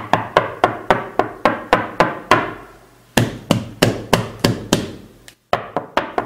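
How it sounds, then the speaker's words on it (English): A rapid series of sharp wooden knocks on a bedroom door, about a dozen evenly paced raps, a brief pause, then another insistent burst, loud and close. "waxaa la soo garacay iridda qolkayga"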